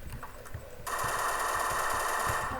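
Sustained automatic gunfire from the WolfTeam video game erupts about a third of the way in and rattles on continuously and loudly to the end, with faint background noise before it starts.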